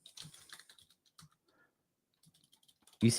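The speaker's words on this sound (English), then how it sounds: "I'll type it in here" Quick bursts of keyboard typing as a text message is entered, close tapping clicks in uneven clusters that trail off into quiet, followed by a louder rustling noise at the end.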